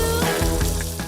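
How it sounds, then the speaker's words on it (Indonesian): Tilapia fish marinated with turmeric, coriander and garlic fries in hot oil. A close, continuous sizzle and crackle with small bursts of popping runs through the whole short stretch. "Pertama langsung aja nih kita goreng dulu ikan nilanya"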